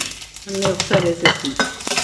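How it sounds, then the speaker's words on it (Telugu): Cumin, mustard seeds, chana dal, urad dal and dry red chillies hit hot oil for a mango yogurt chutney tempering, with a brief sizzle and crackle under metallic clinks of a stirring spoon. "ఆయిల్ హీట్ ఎక్కిన తర్వాత పోపు గింజలు చూడండి జీలకర్ర ఆవాలు శనగపప్పు మినప్పప్పు ఎండుమిర్చి"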